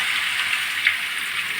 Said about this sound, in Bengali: হ্যাঁ, তেলটা গেছে, এটা অল্প দিয়ে ভেজে দেখে নিই।